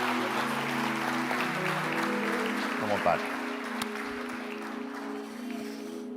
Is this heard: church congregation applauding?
yes